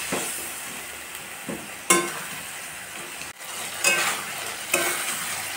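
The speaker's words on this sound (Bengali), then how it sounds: "আমার মশলা ভাজা ভাজা হয়ে এসেছে" Spices with turmeric powder and salt fry in oil in a pan for a Bengali fish curry, a steady close sizzle broken by several scraping stirs of the spatula, no voices.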